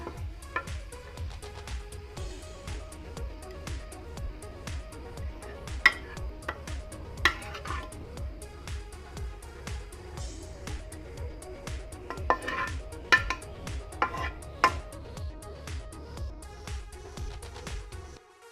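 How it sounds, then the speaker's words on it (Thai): Stir-frying fried snakehead fish with Chinese celery in a pan, a steady low sizzle under repeated scraping and clinking of a utensil against the pan, with sharper clanks now and then throughout. "ผัดปลาช่อนทอดใส่ขึ้นช่ายของเรา"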